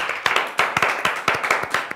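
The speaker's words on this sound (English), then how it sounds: "A round of applause." A small group claps for a children's spelling champion in a studio, with quick, close, crisp handclaps at an irregular brisk rhythm over a faint background wash.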